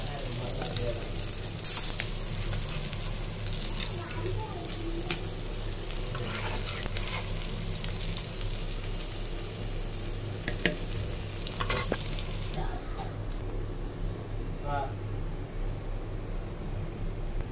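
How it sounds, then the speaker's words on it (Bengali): Fish frying in a pan in a home kitchen: a low, steady oily sizzle continues throughout, broken by occasional soft clicks and clatters of utensils. "যে মাছটা ফ্রাই হয়ে গেছে, অনেক সুন্দর লাল লাল করে ফ্রাই করে ফেললাম।"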